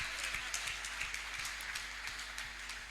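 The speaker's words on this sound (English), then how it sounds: "Clap, clap, clap." Church congregation clapping at a healing service, a dense steady patter of many hands from a distance, with no voices over it.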